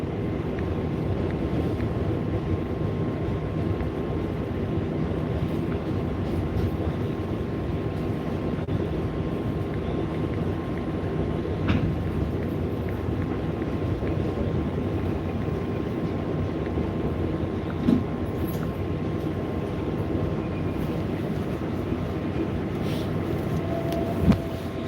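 A Flushing Main Street bound 7 train of the New York subway running near Mets-Willets Point, a steady low rumble and roar that holds evenly throughout with faint clanks, no voices.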